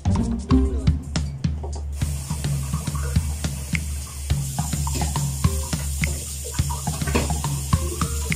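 Tap water poured into a pan to boil milkfish: close, splashing and gurgling flow with uneven drips and bursts throughout.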